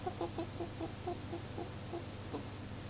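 A voice imitates a kookaburra call, a run of repeated hoarse, clucking laughing syllables in a steady rhythm, close and fairly quiet over a low background hum on an old tape recording.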